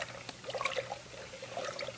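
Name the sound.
water poured onto sugar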